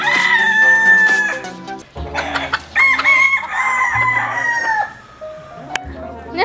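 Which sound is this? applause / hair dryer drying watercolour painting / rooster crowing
rooster crowing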